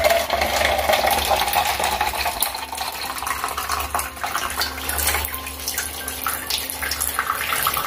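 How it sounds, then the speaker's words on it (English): Water streams steadily from four straw tubes fixed into holes near the base of a plastic bottle, a continuous splashing trickle with no talk. "Water flows from all the four tubes."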